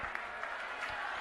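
Crowd applause welcoming AAP leader Manish Sisodia at a political rally at Jantar Mantar in Delhi, steady dense clapping from a large outdoor crowd, brief and continuous.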